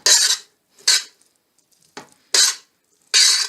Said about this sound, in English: This is the third time I'm stirring it, just giving it a thorough stirring.